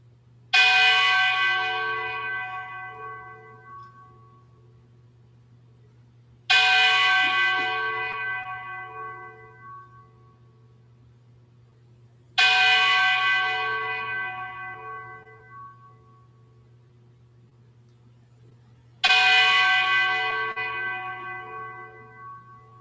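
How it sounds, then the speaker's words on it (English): A church bell tolls four times before Vespers evening prayer, each strike ringing out and slowly decaying over a low steady hum, spaced about six seconds apart. "we will begin after the chiming of the bell"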